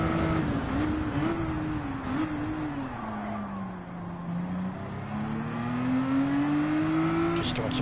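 Race car engine in Gran Turismo 7, held at a steady drone with rising and falling pitch as it revs through gears, continuous and fairly loud throughout, with no talking.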